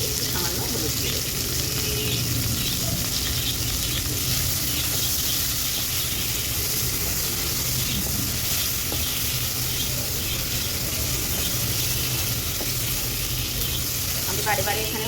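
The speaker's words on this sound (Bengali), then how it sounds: "তো দেখুন এখানে পেঁপে আর মিষ্টি আলুটা বেশ ভালো করে ভাজা ভাজা হয়ে গেছে।" Papaya and sweet potato with turmeric frying in a pan, sounding as a steady, close sizzle with occasional stirring scrapes that runs continuously throughout.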